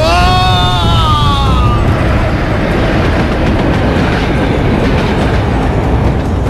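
A loud, close train rumbles and rattles along the tracks, with a high metallic squeal fading out early on.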